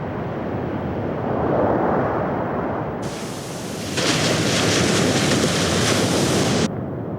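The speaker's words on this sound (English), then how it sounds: "The long Pacific swells crash across the exposed surface" Long Pacific Ocean swells crash over an exposed reef at Henderson Island as a continuous, heavy roar of surf and spray that swells louder midway, with wind rushing across it.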